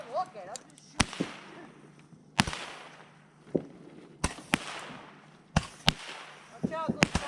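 Fireworks are set off outdoors on New Year's in high winds, giving a series of sharp loud bangs and pops, some with crackle, several seconds apart, with people talking and whooping between the blasts.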